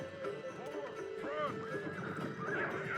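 Horses neighing and charging in a strategy video game battle. A close whinny rises over steady galloping noise, and further neighs follow through the short stretch.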